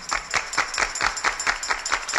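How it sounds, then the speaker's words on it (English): Hands clapping in a steady, even rhythm, about four claps per second, close and fairly loud with no talk over them. "Let me see you clap your hands."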